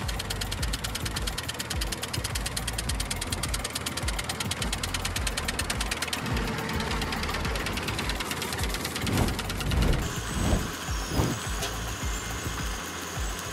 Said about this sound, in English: This machine harvests the potatoes by lifting the potatoes from the bed using a share.